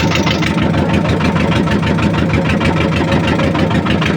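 A boat engine on the Teesta River drones steadily and loudly throughout, a continuous low rumble with a fast regular throb, like an engine running without pause.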